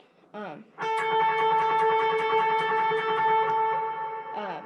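Sustained electric guitar notes ring out with overdrive and echoing delay, a short picked phrase first, then a long distorted tone that slowly fades.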